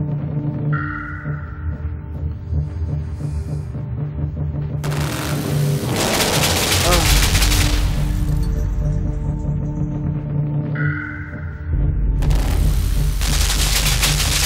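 Gunfire from the video game Limbo comes in two loud bursts, each a dense rush of shots and booms lasting several seconds, over a low, steady game soundscape with no talking.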